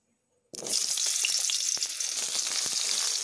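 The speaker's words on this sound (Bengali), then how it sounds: "কড়াতে আমি একটু তেল দিয়ে নিয়েছি। এবার আমি কেটে রাখা আলুগুলোকে ভেজে নেব।" Cut potatoes dropped into hot oil in a wok burst into a loud, close sizzle after a short silence, then keep frying steadily with faint clinks and bubbling crackle.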